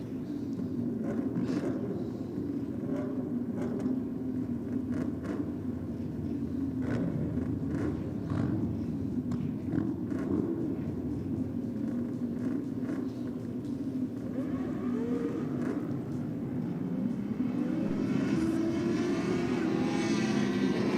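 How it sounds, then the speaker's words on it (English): A two-stroke drag racing motorcycle engine picked up by track microphones at a drag strip, heard as a loud, continuous buzzing drone that holds steady for the whole stretch and rises slightly near the end. "You can hear your two-stroke on the track mics, Mark."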